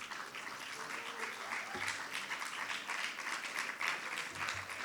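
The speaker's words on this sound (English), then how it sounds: "Give them a round of applause." Applause for the boys track and field team at a high school spring varsity awards ceremony, a steady crowd of clapping throughout, moderately distant and even in level.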